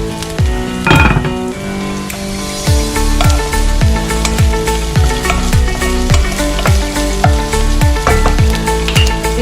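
Creamy shrimp alfredo sauce with pasta sizzling in a pan while being stirred, a steady loud fry with rhythmic utensil scrapes repeating about twice a second.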